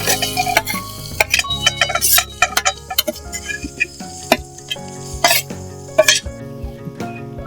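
Coconut is stirred in a spoonful of ghee in a hot kadhai, with sharp metallic clinks and scrapes of a spoon against the pan in an irregular rhythm over a faint sizzle.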